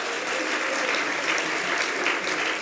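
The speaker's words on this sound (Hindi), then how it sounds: "तालियां तो बजा रहे हो," A gathered audience at a spiritual discourse claps steadily and densely, a continuous close wash of applause with no break.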